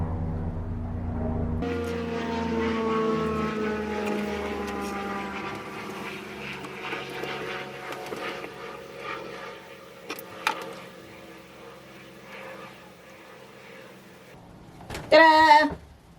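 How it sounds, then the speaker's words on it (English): A helicopter passes overhead, its droning engine pitch sliding downward as it moves away, moderately loud at first and fading, followed by brief scattered handling noises. "Excuse the helicopter going overhead."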